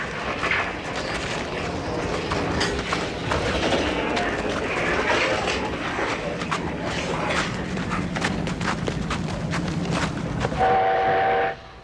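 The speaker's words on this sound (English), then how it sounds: "Here's a steam locomotive of a kind that's popular among railway buffs everywhere, and which has been built in China since the 50s" Chinese-built steam locomotive of a type made since the 1950s, chuffing and clattering steadily along the line with rolling wagon noise, then a sustained whistle blast near the end.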